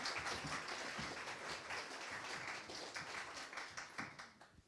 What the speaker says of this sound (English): So maybe please a round of applause for all these confident, brave people.